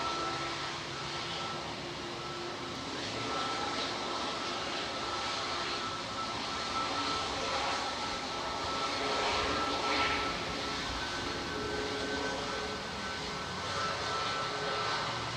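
Airliner engines spool up on the APU at Manchester Airport, a steady broadband roar with a sustained whine that holds loud and even for the whole stretch, no voices over it.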